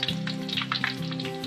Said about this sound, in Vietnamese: Các bạn thấy là cái khoai lang nè, chiên cái nó cũng dẫn cái khoai lên nè.